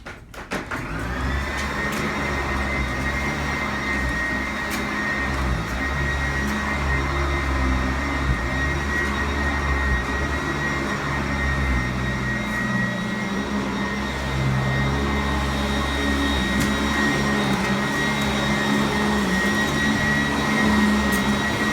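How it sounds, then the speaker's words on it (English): A vacuum cleaner runs on carpet with a loud, steady motor whine and roar that holds without a break, close by and alone, with no voices. "So sometimes you do stop it and relocate the vacuum cleaner?"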